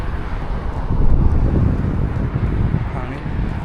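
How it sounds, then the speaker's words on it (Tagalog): Gusty wind blowing outdoors in a residential neighborhood in Dieppe, New Brunswick, buffeting the microphone in a loud low rumble that swells midway and stays close. "Hangin."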